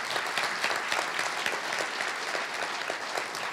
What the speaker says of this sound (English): I just like a round of applause for Warner Brothers and Paramount